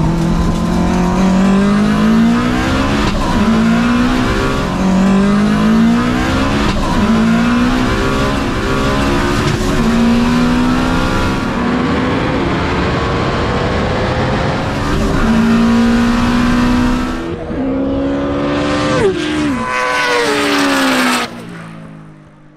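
A Subaru Impreza Type-R of over 750 hp drag racing a Suzuki GSX-R 1000 motorcycle, engines screaming loud and close as they rev up through repeated rising gear pulls, then fading at the end.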